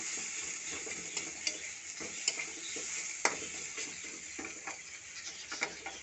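Jackfruit pieces frying in a little oil in a pan, a steady close sizzle with scattered crackles and occasional stirring scrapes throughout.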